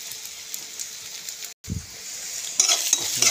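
Meat with turmeric and spices fries in oil, a soft close sizzle broken by a brief silent gap, then louder stirring and crackling bursts toward the end.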